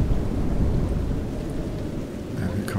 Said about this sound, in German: Das regnet ja hier viel zu krass